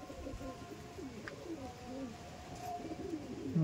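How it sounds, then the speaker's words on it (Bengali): Restless pigeons from a prized magnet line cooing softly and shuffling in the hand, low throaty coos repeating close by over a steady background murmur. "দেখুন পায়রা এত ছটপট করছে, রাখা মুশকিল"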